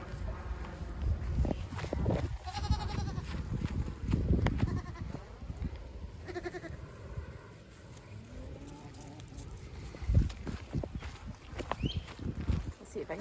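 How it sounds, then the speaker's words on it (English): Nigerian dwarf dairy goats bleating around a farm herd, several short bleats scattered through shuffling hooves and footsteps, with a person talking over much of it. "These are Nigerian dwarf goats. They're dairy goats."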